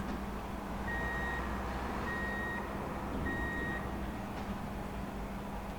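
Truck reversing alarm in the video game Truck & Logistics Simulator, repeating three evenly spaced beeps over a steady low engine drone at moderate level.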